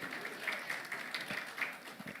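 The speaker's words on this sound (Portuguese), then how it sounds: "Uma salva de palmas ao Gilson." An audience at a legislative panel applauds Gilson Conzatti, president of the Brazilian Union of Councillors: soft, fairly distant clapping that stays steady and faint for about two seconds.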